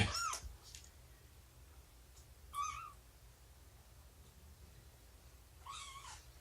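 A cat gives a few soft, faint meows spaced apart, one at the start, one in the middle and one near the end, over quiet background.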